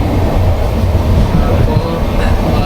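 Steady low rumble and rattle inside a moving passenger train on a long Kerala to Delhi run, loud and continuous with no pauses.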